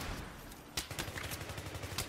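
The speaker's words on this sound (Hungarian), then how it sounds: "ez az a gránátvető, ami ilyen kis gránátot lő ki, ami később robban fel" Weapon fire from a grenade launcher in Battlefield 3 multiplayer, a sharp shot followed by a rapid rattle of repeated gunfire bursts throughout a busy battle mix, with no talk.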